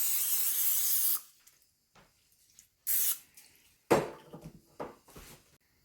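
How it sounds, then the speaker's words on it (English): Short bursts of non-stick cooking spray hiss from an aerosol can into a 9x13 baking pan before cinnamon rolls go in: one long spray, then several briefer puffs with faint handling clatter between them. "I'm going to spray with non-stick spray to make sure that the cinnamon rolls do not stick"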